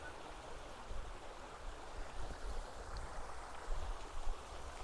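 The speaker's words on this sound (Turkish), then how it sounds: "Şöyle suyun akışını da göstereyim." Water flows steadily over the white travertine terrace pools at Pamukkale, a soft, continuous trickling and rushing wash heard at moderate distance.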